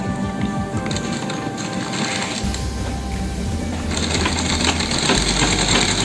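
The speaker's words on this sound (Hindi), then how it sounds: "अब ऐसे दूसरी साइड इसी तरीके से" A sewing machine stitches a double piping border onto a sleeve, with a fast, steady mechanical chatter up close that grows louder and deeper as the stitching speeds up toward the end.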